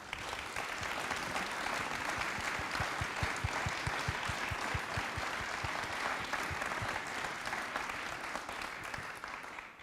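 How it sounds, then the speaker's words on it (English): A Rotary club audience applauds steadily for the full stretch, dense sustained clapping from a roomful of people with no talk over it. "Rotarians, have a big round of applause."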